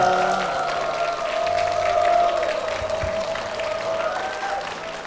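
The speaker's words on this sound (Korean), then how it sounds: "교회와 담임 목사님을 위해서 큰 박수 부탁드리겠습니다" Congregation applause at Dongtan Zion Church in a Korean worship service, honoring the church and its senior pastor; steady sustained clapping from a crowd indoors, continuous and moderately loud with a sustained tone ringing beneath it.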